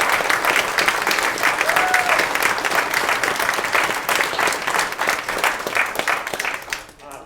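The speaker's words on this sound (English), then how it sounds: "I think Di Tyson deserves one more round of applause" A choir concert audience in Sorrento applauds one performer, a dense, steady wash of many hands clapping that holds strong for about six seconds, then thins out and fades near the end.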